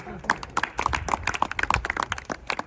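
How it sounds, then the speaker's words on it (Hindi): A crowd of people clapping in applause at a gathering, a dense, close burst of overlapping hand claps that keeps going steadily throughout. "ताली हो जाओ भाई इसके लिए"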